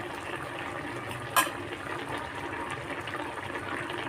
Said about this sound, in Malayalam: തിളച്ച് വന്നിട്ടുണ്ട്.